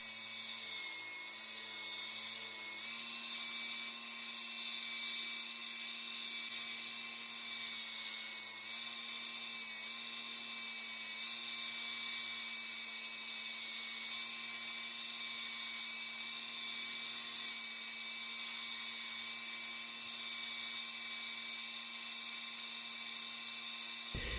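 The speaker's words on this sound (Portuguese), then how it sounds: "na lixadeira de cinta você tem que utilizar aí uma lixa 180 ou 220 para evitar de comer muito na madeira" A belt sander fitted with 180 or 220 grit polishes a wooden part for a scale Opala model car, giving a steady, close, high-pitched whine that runs unbroken for over twenty seconds with no talking.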